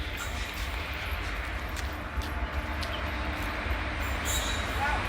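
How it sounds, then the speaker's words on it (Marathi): Train arriving at a new railway station in the morning, a faint steady rumble and rolling drone of rail cars continuing throughout, with no clear speech. "त्यांची रेल्वे आलेली"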